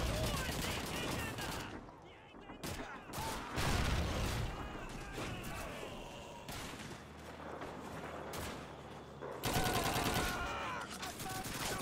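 Dense enemy rifle and machine-gun fire from a Call of Duty 2 World War II battle on Xbox 360 crackles almost without pause, loud and close, with heavy bursts rolling over one another in a busy wartime soundscape.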